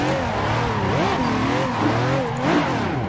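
A Nissan 350Z drifting on flat ground in a driving simulator game: a loud, close engine drone that rises and falls as the throttle is worked, with sliding tire noise underneath and no voices.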